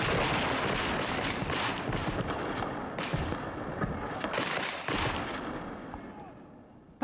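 Sharp, loud musket shots from Civil War reenactors at Gettysburg crack in uneven succession, several overlapping bursts and echoes, with voices faintly in the background.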